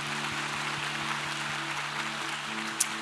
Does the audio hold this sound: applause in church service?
yes